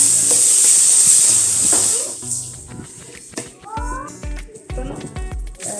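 Tomatoes are added to spice powder frying in a pan for a breadfruit roast, starting with a loud hissing sizzle that quickly fades, followed by someone talking over quieter crackles and utensil clinks.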